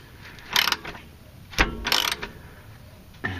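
A wrench ratchets on the rear lower 16 mm shock absorber bolts of a 15-year-old Mercedes W208/W202/W203/W210, in a few loud, close bursts of clicking separated by pauses.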